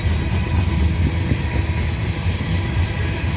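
A freight train rolls down a big hill under dynamic braking at around 45, giving a steady, loud low rumble with a broad roar and faint rail clatter that holds throughout.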